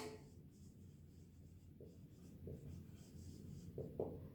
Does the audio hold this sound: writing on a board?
yes